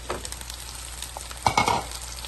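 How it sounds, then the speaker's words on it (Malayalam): Potatoes are stirred into sautéed onions in a pan for an eggplant and potato sabji, giving a soft frying hiss with scraping spoon strokes that grow louder near the end. "ഇനിയും അതിലേക്ക് ഈ ഉരുളക്കിഴങ്ങിട്ട് ഒന്ന് വഴറ്റാം."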